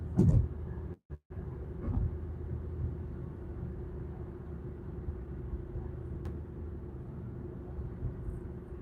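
Buses idle and pass on a city street early in the morning, a steady low engine rumble that holds throughout, with one brief dropout near the start and no talking.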